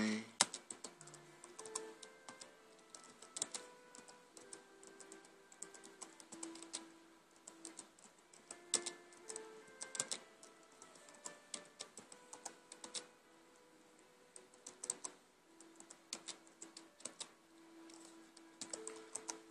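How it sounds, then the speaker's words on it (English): Fast one-handed typing on a computer keyboard, a dense run of close, crisp key clicks with brief pauses, heard alone without talk. "Typing with one hand, that was pretty fast."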